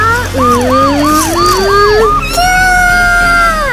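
A loud toy police car siren wails in rapid up-and-down sweeps, then shifts to a longer steady tone, sounding close by.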